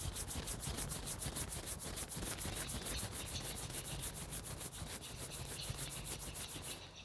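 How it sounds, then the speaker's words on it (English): Palms rub together briskly in a fast, even back-and-forth rhythm, a close, steady dry swishing that continues for several seconds without talk. "Last time, rub your palm."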